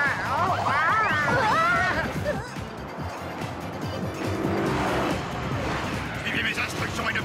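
Cartoon Gadgetino Turbo Roller skates zoom away, a loud whooshing, squealing rush like a fast car pulling off, with whistling sweeps early on and a steady motor roar after, mixed under cartoon voices.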